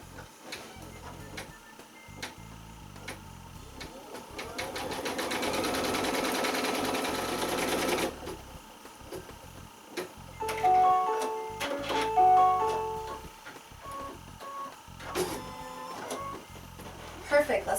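An embroidery machine stitches the first sequence of an in-the-hoop curling iron case, a dense rapid mechanical whirr for a few seconds followed by brief intermittent stitch bursts and clicks, with a voice talking over parts of it.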